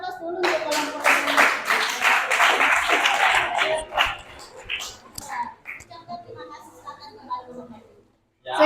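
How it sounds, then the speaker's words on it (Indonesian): Applause and clapping from a classroom audience after a student group finishes presenting a simple financial report, dense and loud for about four seconds before thinning into scattered claps and murmuring voices. "Ya kita kasih aplaus dulu untuk kelompok ini."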